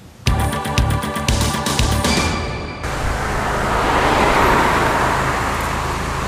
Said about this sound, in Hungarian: Egy kőszállító kamion hajt keresztül Söréden, hogy útját a 81-esen folytassa.